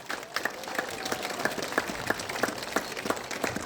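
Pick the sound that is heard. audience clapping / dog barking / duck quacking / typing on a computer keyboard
audience clapping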